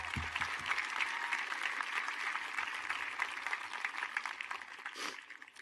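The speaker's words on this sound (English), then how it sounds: "Can we get a round of applause for them?" A graduation crowd at Hingham High School in 2023 claps for the school custodians: a sustained, even round of many hands that carries on for several seconds and ends in a brief, sharper burst.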